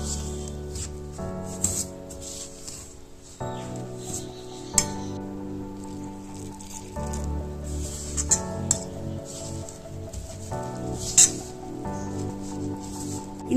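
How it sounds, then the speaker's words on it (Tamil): A spoon scrapes and clinks against a vessel as rice flour dough for idiyappam is stirred while hot water is poured in little by little, giving irregular nearby knocks and scrapes over faint background music. "கொஞ்சம் கொஞ்சமா வெந்நீர் ஊற்றி கிளறிக்கோங்க"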